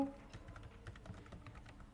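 Keys tapped on a computer keyboard in a quick, irregular run of soft, close clicks with no voices, as the Windows and E shortcut is pressed on a Windows 10 PC.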